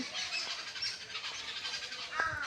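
Several birds squabble outdoors with busy, overlapping chirps and a sharper call near the end, all over steady background noise.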